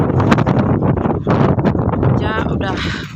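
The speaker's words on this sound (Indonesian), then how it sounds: "anginnya kencang sekali ya" Strong stormy wind gusting outdoors, buffeting the microphone with rumbling bursts while a person talks over it.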